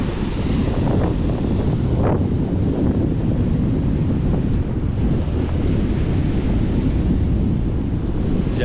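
Sea waves and gusting wind at Praia das Fontes beach, a loud continuous roar of surf mixed with heavy wind buffeting the microphone, no one speaking.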